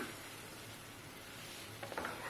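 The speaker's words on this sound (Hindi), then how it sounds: "अब इसी पैन में पाइन का जो हमने पेस्ट बनाया था वो लेंगे" Pineapple paste going into a hot pan for pineapple halwa, giving a quiet, steady sizzle with faint stirring and a couple of small clinks toward the end.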